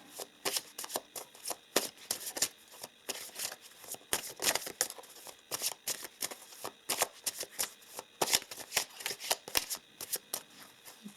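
Oracle cards being shuffled by hand, a steady run of crisp riffling and flapping bursts close up, continuing without any talking.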